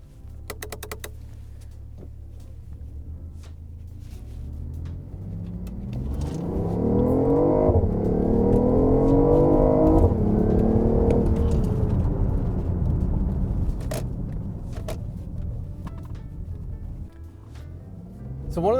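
A BMW on a short test drive, with the engine or motor rising in a long whirring acceleration, easing back off, and small clicks and taps from inside the cabin.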